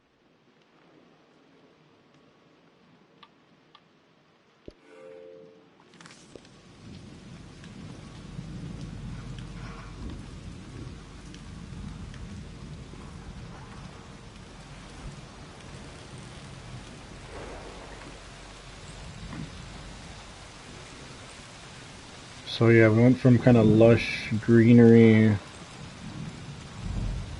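Rain and rolling thunder in the video game Season: A Letter to the Future, a steady wash of rainfall building from near-silence with a low rumble, while someone talks over it and a louder musical swell enters near the end.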